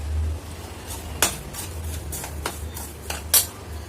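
Peanuts stirred and roasting in salt in a pan over medium heat on a home stove, giving a run of scattered dry clinks and rattles, with a few sharper metallic knocks standing out over a low steady hum.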